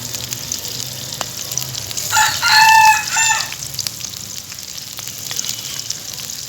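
Chickens squabbling and clucking outdoors in a rural Sylhet setting, a brief burst of agitated squawks and rooster-like calls rising midway over steady background hiss and faint cooking sizzle.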